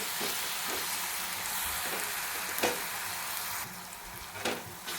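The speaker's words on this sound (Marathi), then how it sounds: "छान मिरची परतून घेऊया मिरचीचा पूर्ण कच्चापणा गेला पाहिजे" Green chillies fry on a low flame in a pan for a spicy village-style flower vegetable dish, giving a dense steady hiss with a few faint stirring knocks, even and moderately quiet throughout.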